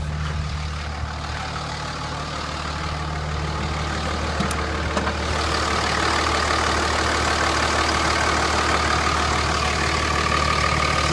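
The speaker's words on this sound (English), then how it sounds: "I'm going to fire it up. Let you look under the hood. Listen to it run under the hood." A 2004 Dodge Ram Laramie 4x4 diesel with 112,751 miles idles steadily with its hood up, a continuous low engine rumble that grows slightly louder partway through and runs on without talk.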